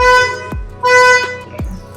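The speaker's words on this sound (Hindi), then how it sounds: "हॉर्न भी काम कर रहा है" A car horn honks twice in quick succession, loud and close, each blast a short bright tone followed by a clunk, from a Volkswagen Polo GT fitted with an Audi RS steering wheel.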